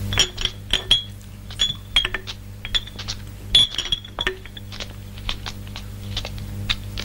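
Glass drink bottles clink as they are gathered up, with a run of bright, sharp chinks and knocks that come in irregular clusters, loud and close, with no voices.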